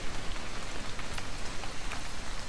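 Steady rain falls on surfaces in a narrative exploration video game, giving a close, even, dense patter with no voices.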